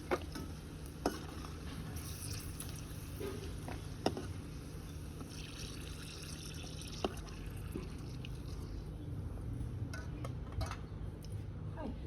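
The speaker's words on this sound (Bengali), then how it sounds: "একটু নাড়াচাড়া করে নামিয়ে নিচ্ছি" Fried jackfruit seeds are stirred in a pan, with scattered light spatula clicks and taps over a soft, steady sizzle of oil, close and fairly quiet, with no talking.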